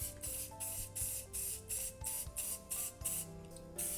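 Primer spray paint hissing from an aerosol can in short repeated bursts, roughly eight sprays of about a third of a second each, close and loud.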